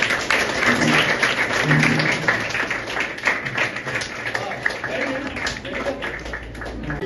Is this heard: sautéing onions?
no